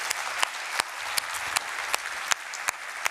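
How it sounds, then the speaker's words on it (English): Audience applause at a CSS Day 2025 conference talk on design token architecture fills the room with steady clapping, sharp individual claps popping out at regular intervals, without anyone speaking over it. "Let's give another round of applause for the organizers."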